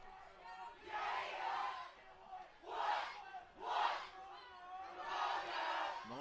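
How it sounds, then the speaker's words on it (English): A crowd at a high school varsity football game roars and chants in rising waves, several loud surges of cheering heard from a distance with brief lulls between. "crowd getting really hyped up here"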